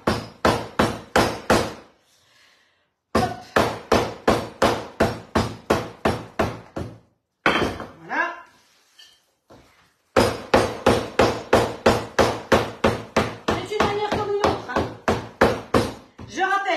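A wooden rolling pin pounds hard on a kitchen surface: loud, close, rapid blows in steady bursts of about a dozen strikes, with short pauses between rounds.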